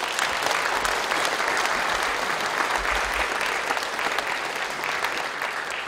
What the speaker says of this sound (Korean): 다 같이 환영의 박수를 드리겠습니다.